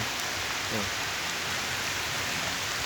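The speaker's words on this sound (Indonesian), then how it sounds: "Hujan teman-teman." Steady rain pours down outdoors on a riverside during a fishing trip, a dense even hiss with scattered drops, close and continuous throughout.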